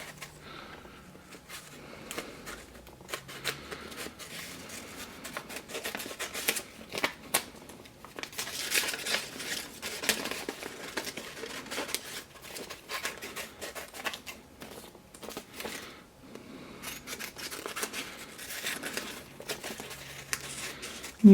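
Scissors cutting paper shapes from templates and freehand, a soft, steady run of snipping and rustling paper that stays close and fairly quiet and continues without pause.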